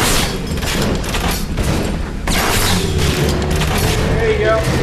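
Bioshock Big Daddy fight, with dense booming gunfire and explosions rolling continuously at high volume, rapid shots clattering over heavy low rumble, with a voice talking over the combat.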